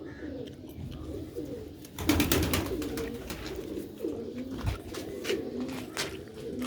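A pair of Sialkoti pigeons coo in repeated soft, throaty phrases, fairly close, over a steady outdoor background with a brief louder stretch partway through.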